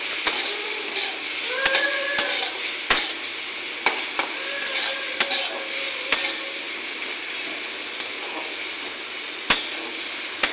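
Chopped onion and carrot frying in a pan as salt is stirred through, a soft continuous sizzle punctuated by sharp clicks of a spoon against the pan, no talk.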